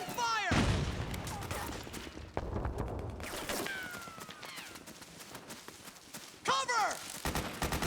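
Suppressing gunfire in Metal Gear Solid 4, with dense bursts of automatic fire and overlapping shots across a noisy battlefield, and shouted voices mixed in.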